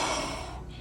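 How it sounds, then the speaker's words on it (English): A single close, sharp breath, a quick forceful inhale or exhale that tapers off within a second, heard alone. "Breathing."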